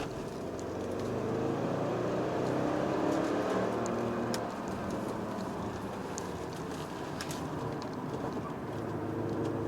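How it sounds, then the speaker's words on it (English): Audi RS6, a car weighing over two tons, cornering on grippy tires, with a steady loud road and engine roar throughout and faint high tire squeal peeking through near the middle. "Little bit of tire squeal there, but totally under control"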